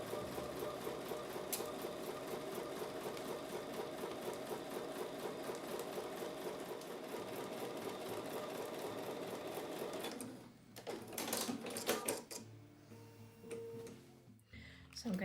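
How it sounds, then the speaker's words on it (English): Sewing machine stitching a quarter-inch seam on a Martha Washington Star quilt block, a rapid steady chatter for about ten seconds before stopping, followed by softer handling clicks and rustles, with a voice speaking at times. "I'm going to take that over to the sewing machine and sew with a 1/4 inch seam"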